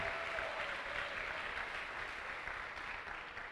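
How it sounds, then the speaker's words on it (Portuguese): Church congregation applauding together, a steady dense wash of clapping that holds loud and even throughout with no pauses. "Aplauda o Senhor por isso."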